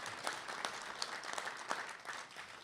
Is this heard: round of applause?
yes